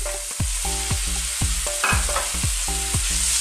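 Pork belly goes into a pan of cooked tomatoes for pork pinakbet: a constant loud frying hiss, with a repeating pattern of short pulsing thuds and scrapes as the food is stirred.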